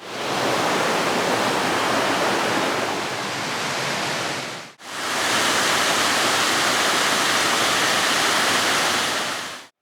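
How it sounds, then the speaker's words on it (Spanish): The Palancia river near its source at Bejís, Castellón, fed by springs and fountains, rushes in a loud, steady roar of flowing water, broken by one brief cut midway before the same full rush resumes. "Aquí la cantidad de agua que hay, ya que hay varios manantiales y fuentes que van aumentando el caudal a lo largo del río."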